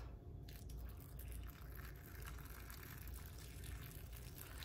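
Hot water poured into a canning jar during home pressure canning, a steady continuous splashing gush that runs alone at a fairly constant level throughout.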